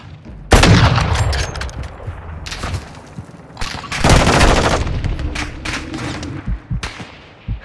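Gunfire in Call of Duty Warzone 2 DMZ, with loud rapid automatic bursts and sharp shots close by, a heavy volley near the start and another midway, then scattered trailing shots and some faint game voice.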